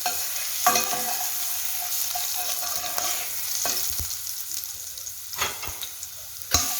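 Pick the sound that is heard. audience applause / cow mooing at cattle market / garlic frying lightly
garlic frying lightly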